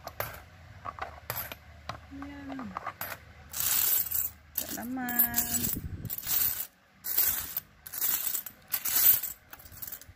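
Coins clink as they drop into a piggy bank in short bursts, close and fairly quiet, with brief spoken words and a high squeaky chirp between the drops.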